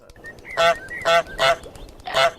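A goose in a video game honks four times in quick, loud, evenly spaced blasts, with small electronic game sounds between them.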